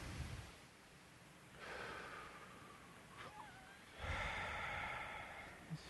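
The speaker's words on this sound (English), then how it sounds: "Just take a big, deep breath." Two big, deep breaths heard up close, each a long airy inhale or exhale separated by a short pause, breathy and unhurried against a quiet room, no talking.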